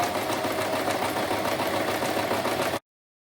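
A sewing machine stitches fabric for an appliqué bag, producing a steady, close, continuous motor whir with rapid needle chatter that runs evenly and then cuts off abruptly, with no talk.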